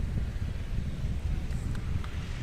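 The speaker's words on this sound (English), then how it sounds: "it is pretty windy" Strong wind buffets the microphone at an outdoor national championship match in New Zealand, a constant low roaring rumble with faint, brief sounds above it.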